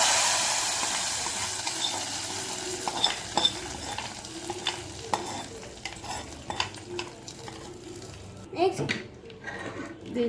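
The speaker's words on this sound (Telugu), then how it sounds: "ఇవన్నీ మంచిగా ఫ్రై చేసుకోవాలి" Tempering spices fry in hot oil for tomato dal, a continuous soft sizzle with stirring clinks and scrapes, while a voice talks quietly throughout.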